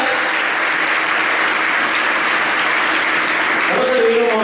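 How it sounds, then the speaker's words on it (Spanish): An audience at an industry awards night, Noite da Industria 2017, applauds an award recipient with dense, steady clapping throughout, and a voice starts faintly over it near the end. "que también le aplaudís"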